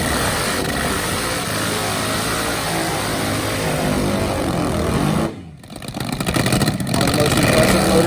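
A loud supercharged parallel-twin drag racing motorcycle engine drones steadily at high revs, drops out briefly, then roars back up with a harsh, buzzing tone.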